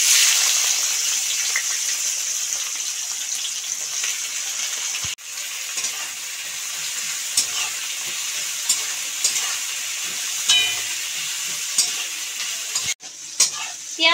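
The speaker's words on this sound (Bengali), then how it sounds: "পেঁয়াজটা আমি দিয়ে দিচ্ছি।" Chopped onion frying in hot oil, a bright steady sizzle close by, with occasional clicks and scrapes from stirring.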